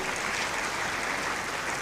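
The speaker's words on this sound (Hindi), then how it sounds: "तो जो भी युगल बैठे, ताली तो बजाओ अपने लिए" Audience applause from seated couples at a Brahma Kumaris spiritual gathering, a steady wash of clapping throughout the short stretch with no talk over it.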